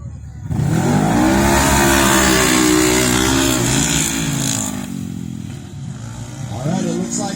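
Polaris XP1000 and other race UTVs, including a big-horsepower Maverick R with a six-speed transmission, launch together from the start line, their engines roaring loud and close in a sustained rising rev before easing off.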